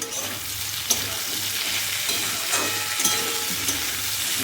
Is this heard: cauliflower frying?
yes